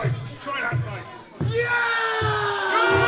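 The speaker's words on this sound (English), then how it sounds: "He's always getting a good cheer out of the crowd." A wrestling crowd at an indoor championship tag team show roars and whoops loudly, the cheering swelling after a brief lull and holding strong and close for the rest of the moment.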